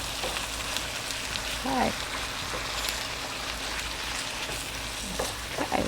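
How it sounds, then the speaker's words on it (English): Vegetables for a moranga squash shrimp stew sizzle and fry steadily in a pan, a constant crackling hiss with occasional stirring, while someone speaks briefly over it. "I can hear the sizzle of all those wonderful vegetables."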